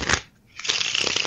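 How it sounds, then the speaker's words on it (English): A deck of playing cards shuffled near the listener: a brief riffle, a short pause, then a longer continuous rapid fluttering of cards, heard on its own. "I'm just shuffling some cards"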